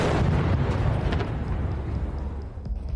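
A tank's ammunition exploding after a drone hit in the Russia–Ukraine war, a dense, loud, sustained rumbling blast with crackling bursts that slowly thins out over a few seconds.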